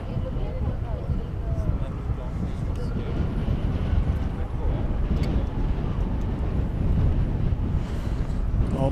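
An Air France airliner taking off at DFW Airport, a steady broad jet roar with some wind buffeting on the microphone, heard from a distance and filling the whole stretch.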